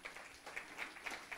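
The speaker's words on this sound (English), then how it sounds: "Let's give the Lord a hand clap of praise." A church congregation claps in praise to the Lord, a faint, somewhat distant patter of hands with a loose rhythm of separate clap bursts and no voices.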